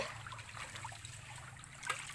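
Water trickles steadily through a farm irrigation canal cluttered with trash being cleared out, a soft continuous babble of flowing water heard close by with a low hum beneath and one brief brighter splash near the end.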